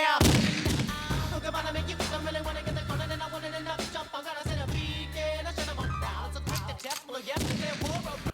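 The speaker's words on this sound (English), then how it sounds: "I love that gunshot noise." Gunshot sound effect inside a track, sharp loud bangs punching through dense music with rhythmic beats and vocals throughout.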